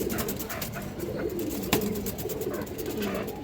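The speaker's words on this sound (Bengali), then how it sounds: "খুবই সুন্দর একটা কবুতর দর্শক" Pigeons coo in a loft or pigeon market, several overlapping low throaty coos running steadily under faint background chatter, with one sharp knock near the middle.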